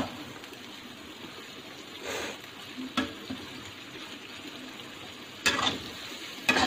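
Maghaz (brain) masala cooks in a pan with a quiet, steady sizzle, broken by a few stirring scrapes and short louder bursts, and no talking.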